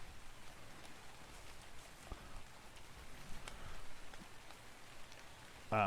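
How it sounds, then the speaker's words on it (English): Steady rain patters in the survival game ARK, a soft, even hiss of drops on surfaces with a few louder spatters, ending in a brief loud burst. "And I mean, it would choose to rain, wouldn't it?"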